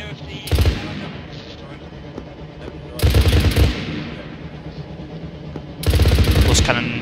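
Three bursts of rapid, heavy cannon fire in Arma 3, each lasting under a second, break over a steady low rumble of battle noise.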